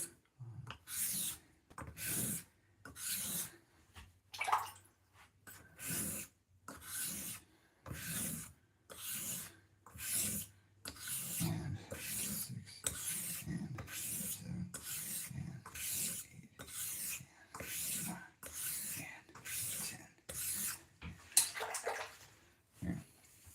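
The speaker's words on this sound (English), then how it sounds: "So I always end the hone with pulling the edge out before I go to the next stone." A straight razor is honed on a sharpening stone with slurry, making repeated rasping, scraping strokes in a steady back-and-forth rhythm, close but fairly quiet, about twenty strokes with no talking.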